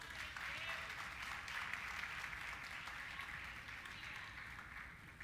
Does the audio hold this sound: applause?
yes